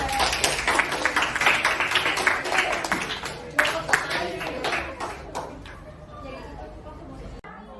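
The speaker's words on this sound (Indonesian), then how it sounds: "Sebelumnya kita kasih aplaus dulu untuk kelompok ini." Classroom applause for a student group, a burst of many hands clapping close by over chatter and talk, fading out after several seconds.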